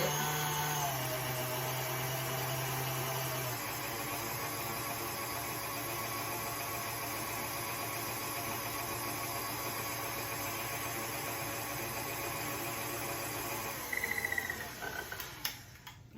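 An electric mixer whirs steadily through sugar in a bowl, a continuous motor hum that shifts pitch early on and ends with a few clatters as it stops, with no talking.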